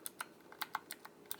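Keys clicking on a Ditoo-Pro retro gadget, about a dozen light, crisp taps in an uneven rhythm, close and fairly quiet with no voices.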